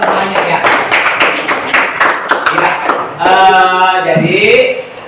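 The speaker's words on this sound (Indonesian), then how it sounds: "kasih tepuk tangan" A classroom of students claps for about three seconds, a brisk, uneven patter of hands, before the clapping gives way to a voice and tonal sounds.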